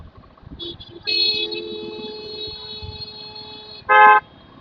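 A car horn sounds one long steady honk, then a short, louder blast a moment later over quiet market-street traffic noise in Nagpur.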